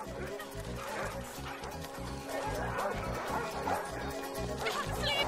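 A dog barks and yips repeatedly in quick, rhythmic bursts, fairly close, with a voice talking faintly underneath.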